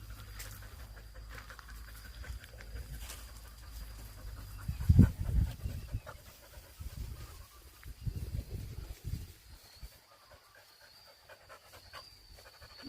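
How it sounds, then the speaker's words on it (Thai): Male Thai Ridgeback dog panting in short rhythmic breaths, close and fairly quiet, with louder scuffling bursts midway against soft outdoor background noise. "เป็นหมาตัวผู้ พันธุ์ไทยหลังอานนะคะ"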